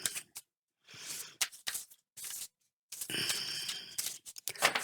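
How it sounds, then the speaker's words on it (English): Tarot cards being shuffled in short bursts of riffling and sliding, with brief quiet gaps between, close and fairly soft. "When you shuffle cards in this manner."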